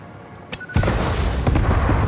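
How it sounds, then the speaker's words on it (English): A sharp crack then a loud, sustained boom with a rumbling tail, from a staged explosion in the factory-building game Satisfactory, near a railroad under construction. "I did some immersive accurate explosion sound effect."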